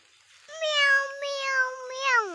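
A voice imitates a cat's meow in one drawn-out, wavering meow that rises and dips, close and fairly loud, with no other talk.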